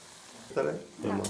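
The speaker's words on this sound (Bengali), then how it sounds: "বন্ধুরা দেখুন আমার লাল লাল করে ভেজে নিয়েছি" Chira (flattened rice) pakoras frying in hot oil in a large wok, with two short bursts of close sizzling and bubbling against a quiet background.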